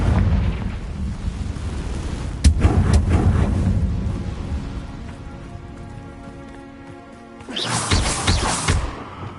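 Confringo blasting spell from a Harry Potter video game going off in sharp, loud explosive cracks, a pair of close blasts early followed by a rumbling stretch and another heavy burst near the end.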